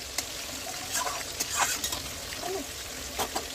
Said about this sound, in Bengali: প্রথমে আমি আলুটা ভেজে নিই